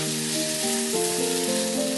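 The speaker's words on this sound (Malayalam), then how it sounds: "ഇടയ്ക്കിടയ്ക്ക് ഇളക്കി മറിച്ചിട്ട് ഒരു ഏകദേശം 7 മിനിറ്റോളം വഴറ്റിയെടുക്കണം" Green plantain stir-frying in a pan for a Kerala-style mezhukkupuratti gives a steady, close sizzle with faint stirring, with no talk over it.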